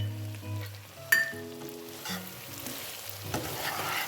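Chicken chintamani with dried red chillies sizzles in a pan as it is stirred, a close, soft frying crackle with occasional scrapes of the spoon.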